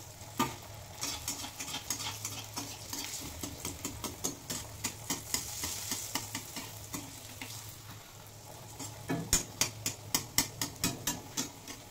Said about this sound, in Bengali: এবার একটা একটা করে ভেজে নেব